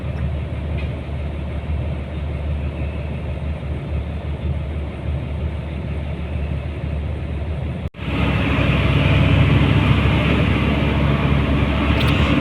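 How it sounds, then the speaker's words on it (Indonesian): A Bagong express coach bus speeds along an Indonesian road, its engine a steady, close drone heard from inside. The drone grows noticeably louder and fuller after a brief drop partway through. "Di perjalanan, bus Bakong ini melaju dengan kencang seperti biasanya."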